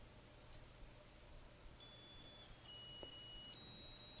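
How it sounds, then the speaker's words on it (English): A vintage digital melody watch alarm, Timex, Templar or Zeon style, bursts into a shrill, fast electronic tune of rapid high beeps after a quiet stretch, loud and close, with no talking. "every time the alarm goes off you'll get a different melody"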